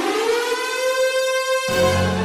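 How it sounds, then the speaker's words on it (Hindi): A cartoon alarm siren wails across a jungle, a loud sustained steady tone that holds for over a second and a half, then drops into a lower, buzzing continuation. "पूरे जंगल में सायरन बजने लगा।"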